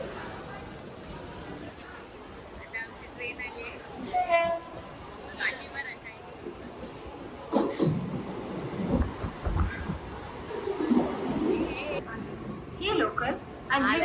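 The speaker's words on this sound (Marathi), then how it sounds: "आता ट्रेन आली आहे आता आम्ही ट्रेन पकडतोय" A train pulls into a busy Mumbai station amid a crowd, with a loud horn blast and rumbling, clattering carriages; people talk throughout in the background.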